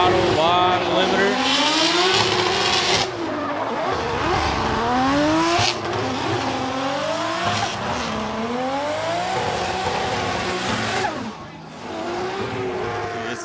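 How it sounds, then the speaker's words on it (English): A drift car at Ebisu Circuit's West Course in Fukushima screams at full throttle, bouncing off the rev limiter with rising and falling engine pitch and tire squeal, loud and continuous, while a commentator talks over it. "he's going to put on a show with a lot of smoke, a lot of throttle, a lot of limiter"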